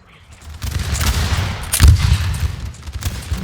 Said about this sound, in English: a devastating blow of canister shots here